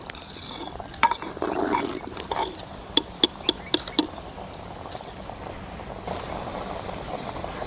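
Goat mutton boiling in a pot during village-style cooking: steady bubbling patter with a series of sharp clinks and taps from a utensil against the pot, close and moderately loud, no talk.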